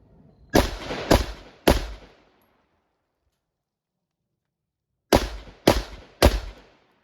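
Two bursts of three loud, sharp pistol shots fired from an inside-the-waistband draw, each crack evenly spaced about half a second apart with a short decaying echo, separated by a few seconds of silence.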